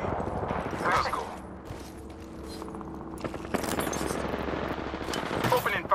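Automatic weapon fire in the Apex Legends video game, a rapid close burst of shots followed by sustained rattling gunfire and mechanical clatter, with a game character's voice heard briefly.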